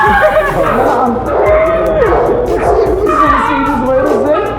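A white dog yips, whimpers and gives short bow-wow barks up close, its whining rising and falling while people talk loudly around it.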